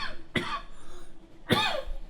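Two sharp, close coughs about a second apart, harsh and raspy, with quiet room noise between them.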